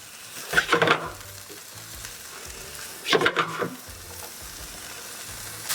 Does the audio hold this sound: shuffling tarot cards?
no